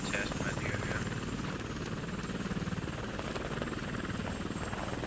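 Video game helicopter near Tallil during a battle with T-72 tanks and BMPs, its rotor thumping loud and steady with a rapid pulsing chop throughout, close and dominant, with voices underneath.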